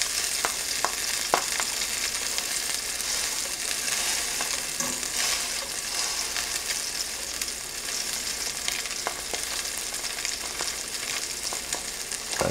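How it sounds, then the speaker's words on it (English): Wild Alaskan salmon sears in a hot pan, giving a bright, continuous close-up sizzle dotted with sharp pops and spits that carries on evenly, with nobody speaking. "We're going to sear this nicely."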